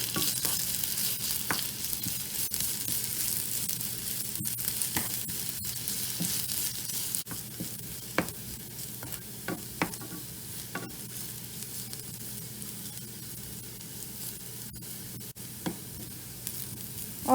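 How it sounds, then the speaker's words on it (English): Chopped onions sauté in a pan for a chicken fry, with a strong continuous sizzle up close. Scattered clicks and scrapes of stirring run through it, and the hiss eases slightly partway through. "Now I'll saute everything until the first batch of onions turn brown."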